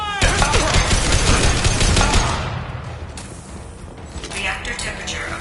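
Rapid automatic gunfire in the Mass Effect video game, a dense burst of close shots for about two seconds, then scattered fainter shots and mechanical clatter under a game voice.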